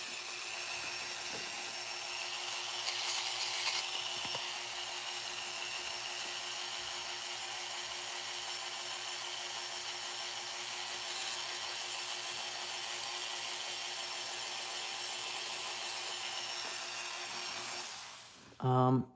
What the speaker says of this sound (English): So from here, I will test how sandpaper works